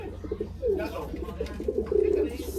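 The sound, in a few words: racing pigeon arriving at the loft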